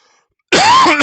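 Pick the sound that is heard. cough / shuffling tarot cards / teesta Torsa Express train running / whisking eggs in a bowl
cough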